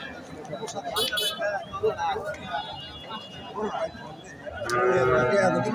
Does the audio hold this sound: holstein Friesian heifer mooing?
yes